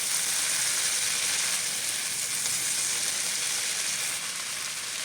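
Spice paste for a vegetarian imitation hilish fish curry fries in a pan with a steady, close, continuous sizzle that holds evenly for the whole stretch, with no voices over it.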